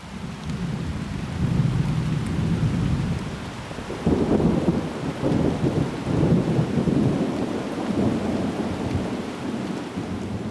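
Huge thunderstorm in the Amazon rainforest, low rolling thunder rumbling over continuous heavy rain, loud and sustained, no voices.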